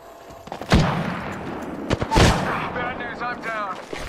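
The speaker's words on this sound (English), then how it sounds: "Getting shot at." Gunfire in the video game Apex Legends, with a couple of loud shot bursts and a steady rattle of shots beneath busy game sound effects.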